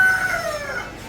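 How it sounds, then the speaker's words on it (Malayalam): A Gramasree country rooster gives a short, falling call at close range, heard alone. "ഇത് ഗ്രാംശ്രീ ഇത് നാടൻ കോഴികളാ"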